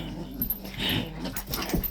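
A puppy growls in short bursts while tugging a toy in a game of tug of war indoors, close and fairly loud, with a few soft whimpering yips between the rumbles and no talking.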